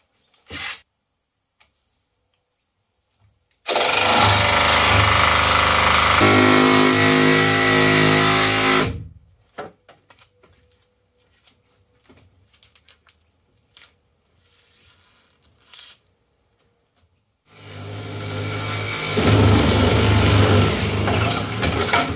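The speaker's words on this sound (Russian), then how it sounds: "С помощью магического лобзика." A jigsaw cuts a trimaran boat hull in two loud, steady bursts of about five seconds each, separated by a quiet gap with faint clicks and handling noise.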